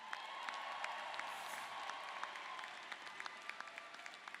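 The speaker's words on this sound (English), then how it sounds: "Let's give them another round of applause." Audience applause at a fall college commencement ceremony for social sciences graduates, a steady, distant wash of many hands clapping that runs throughout, fairly quiet, with a few sharper nearby claps standing out toward the end.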